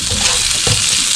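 Scalloped potatoes with curry mango seasoning frying on a camp cooker outdoors, a steady broadband sizzle with a brief stir or scrape partway through and no voices.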